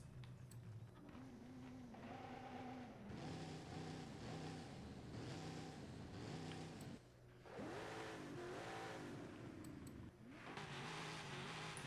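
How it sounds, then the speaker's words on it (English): Racing V8 engine of a car in the Forza Horizon 5 driving game, revving loudly and steadily with shifting pitch, a brief dip near the middle before the engine roars back up. "Why does the racing V8 sound like the V8 that isn't a racing but poopy?"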